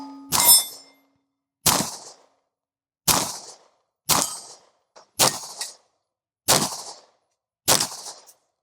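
Seven sharp, loud shots from a Smith & Wesson M&P Shield pistol ring off steel targets, spaced about a second apart, each crack followed by a brief metallic ring and decay, with no talking.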